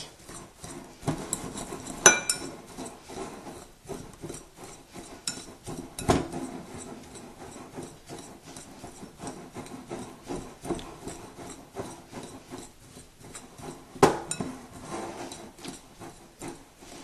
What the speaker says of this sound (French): Et on va mettre aussi la poudre de noisette. Qu'on va bien mélanger.